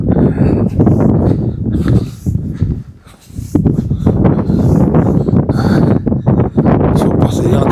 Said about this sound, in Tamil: சூப்பர், சரியான காத்து.